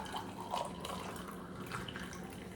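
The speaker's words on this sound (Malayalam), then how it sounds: "നമുക്കിതിൽ നിന്ന് അരിച്ചൊഴിക്കാതെ കോഫി അരിച്ച് ഗ്ലാസ്സിലേക്ക് ഒഴിക്കാം കോഫി കപ്പിലേക്ക് ഒഴിക്കാം" Filtered coffee pours in a steady, fairly faint liquid stream into a cup, with soft splashing and trickling and no talking.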